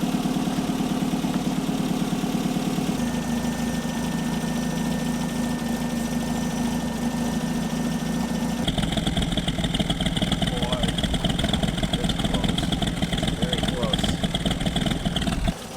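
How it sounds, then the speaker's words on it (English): A Triumph TR4 engine runs steadily after a cylinder head rebuild, with its carburetors synchronized. The idle is close and even, and its tone shifts partway through. "I think we got the carburetors synchronized and everything running really good. Just listen to how this thing sounds now versus before."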